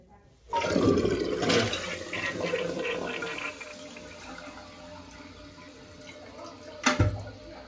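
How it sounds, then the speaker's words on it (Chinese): A newly installed toilet with a full tank flushes nearby, a loud rush of water that fades into a long, quieter trickle with a brief clunk near the end; a voice is heard faintly. "这是刚刚安装的新的，按一下排水"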